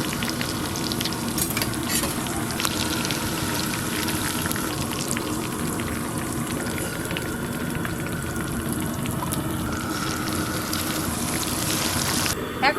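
Oil frying and sizzling steadily in a pan as potatoes are cooked for a festive chicken biryani, with a dense, continuous crackle close by and no talk over it.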